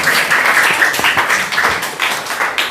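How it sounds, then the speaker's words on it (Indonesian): A classroom group claps for group 3 at an Indonesian madrasah, a dense burst of many hands applauding steadily and loudly for a few seconds with no talk. "tepuk tangan untuk kelompok 3."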